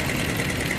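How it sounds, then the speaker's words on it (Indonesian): A Bajaj Pulsar 180 motorcycle engine running steadily after being repaired from a breakdown, a close, even mechanical idle with a rapid continuous beat and no talk. "Inilah baja pulsar 180 yang kemarin mogok, sekarang motor udah hidup."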